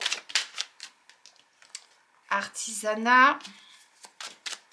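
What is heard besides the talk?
tarot cards being shuffled and drawn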